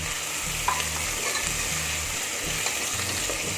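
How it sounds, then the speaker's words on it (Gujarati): Chopped onions sautéing in a pan for khichdi, a steady close sizzle with faint low rhythmic thumps beneath and no talking. "આપણે ડુંગળી સાતરી લઈશું તો ડુંગળી આપણે સતરાઈ ગઈ છે"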